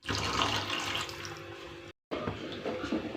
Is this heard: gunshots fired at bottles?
no